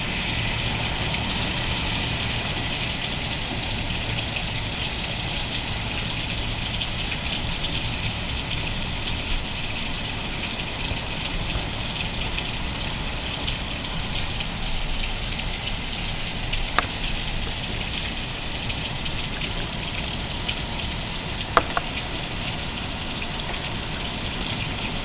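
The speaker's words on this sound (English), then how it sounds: "It's amazing how rain falls down in a storm like this." Heavy rain from Tropical Storm Fay pours steadily outside an apartment building, a dense unbroken hiss of water with a couple of faint sharp drips or knocks standing out.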